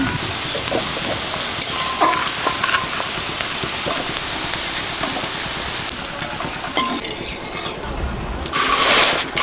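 Fried vegetables with beans and capsicum are stirred in a hot pan, giving a loud, continuous sizzle with scattered scraping and clinking of the utensil, close by and without speech.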